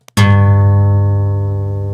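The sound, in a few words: low E guitar string being played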